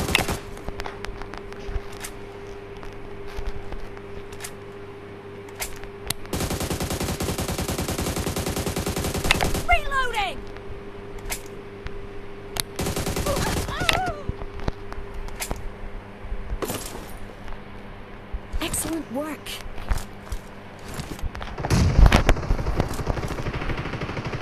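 AUG rifle fire in the mobile shooter BGMI comes in several loud rapid automatic bursts, two long sprays and shorter volleys, separated by quieter in-game ambience and footsteps.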